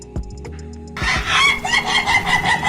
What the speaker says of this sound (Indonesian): Ayam tetangga sampai ketawa ngakak.